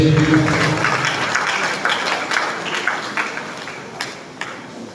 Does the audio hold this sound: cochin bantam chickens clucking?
no